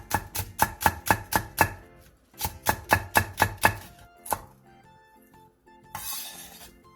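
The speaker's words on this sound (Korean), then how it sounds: "대파 3분의 1개를 길게 반으로 갈라 쫑쫑 썰어주세요." Knife chopping green onion (daepa), sliced finely on a cutting board: two quick bursts of six or seven sharp, evenly spaced chops, then a lone chop, a pause and a soft rustle at the end.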